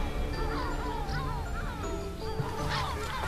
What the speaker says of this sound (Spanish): Mientras pasamos, las gaviotas comienzan a emitir su llamada larga.